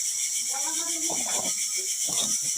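A pressure cooker cooking mutton gives off a steady, thin hiss of steam that runs underneath a person talking nearby.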